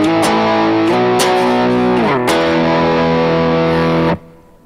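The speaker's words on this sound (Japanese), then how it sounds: "全部パワーコードのブリッジミュートです" Distorted electric guitar power chords played with bridge muting, a few chugging chord changes ringing loud and steady before being cut off sharply near the end.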